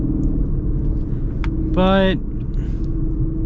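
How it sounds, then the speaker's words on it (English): Inside a 2025 Ford Escape PHEV, the four-cylinder engine drones as a low rumble beneath the cabin while the car accelerates, with people talking over it and a brief tonal chime near the middle. "the four-cylinder is pretty rowdy in terms of the sound"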